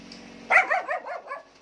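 An angry dog lets out a quick burst of several sharp, growly barks at close range, each one shorter and fading, with no voices over it.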